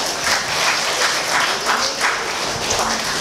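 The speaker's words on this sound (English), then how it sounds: "And Mary Jo, can we give her a round of applause?" Workshop audience at a respite care training gives a speaker a round of applause, a dense, steady burst of many hands clapping that fills the room throughout.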